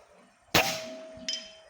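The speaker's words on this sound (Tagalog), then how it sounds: "Okay, firing." Upgraded Mini Predator rifle fired at a target range: one sharp, loud crack followed by a sustained ringing metallic tone, then two lighter knocks.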